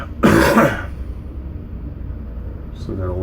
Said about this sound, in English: Still got a lingering cough.